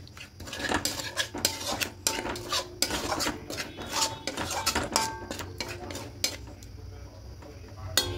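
A spoon clinks and scrapes against a pan while egg korma with garam masala powder is stirred, the irregular metallic knocks coming in quick bursts at close range.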